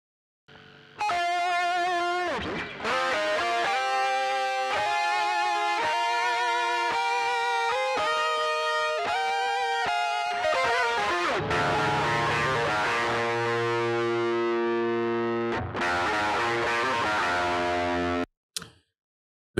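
Distorted, effects-laden electric guitar part from an Afrobeats track, played alone as a bright sustained chordal line with a few brief gaps and an abrupt cutoff near the end.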